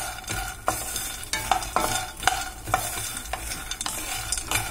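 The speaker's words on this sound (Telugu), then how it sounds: "దీన్ని చక్కగా మనం ఇలాగా వేయించుకోవాలి." Phool makhana (fox nuts) dry-roasting in a pan, with repeated spatula stirs and scrapes in an irregular rhythm over a light crackle, close and fairly loud, no voices.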